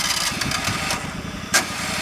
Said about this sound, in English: push the brake in to start it up